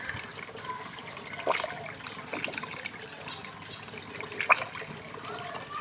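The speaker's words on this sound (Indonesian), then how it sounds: "Nah, ini kita sedot kotoran-kotorannya." Dirty water being siphoned from a turtle tank during a partial water change, a soft low trickle with a couple of brief gurgling spurts, fairly close and quiet, with no talking.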